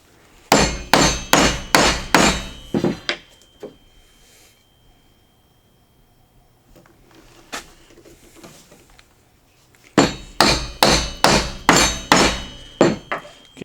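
A mallet strikes a mortising chisel while a mortise is cut by hand in wood. The blows come in two rapid, sharp, loud series of about eight each, and a quieter stretch between them holds a few scattered light taps.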